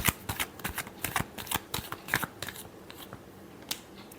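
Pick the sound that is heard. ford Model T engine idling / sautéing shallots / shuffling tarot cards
shuffling tarot cards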